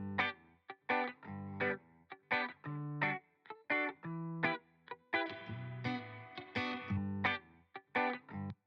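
Distorted electric guitar played through Amplitube amp simulation with a brighter tone, a loud riff of choppy palm-muted chords and sustained notes with crisp stops between hits, alone with no voices.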